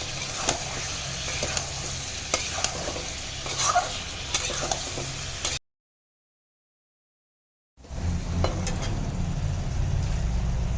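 Chicken and black dal with turmeric stirred in a hot pan, steady sizzling with scraping spoon clicks, cut by a few seconds of total silence before the frying resumes; no speech.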